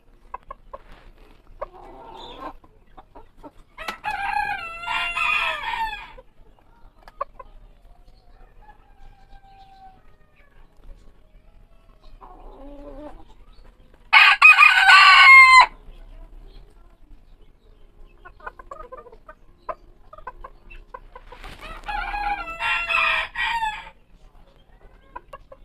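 A Silver Lace Polish rooster crows loudly and clearly three times, with softer clucking between the crows and a brief burst of louder noise near the middle.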